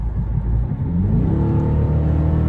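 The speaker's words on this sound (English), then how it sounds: "Dodge got it right with the exhaust note." A rented Dodge Charger's exhaust revs up, a loud, close engine roar that climbs in pitch and holds a deep rumbling note on the road.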